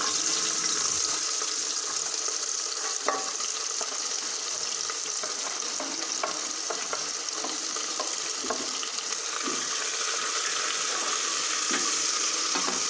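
Sliced onions fry in hot ghee for a Malabar chicken biryani, giving a steady, dense sizzle and crackle that runs unbroken throughout, with scattered soft scrapes and no voices.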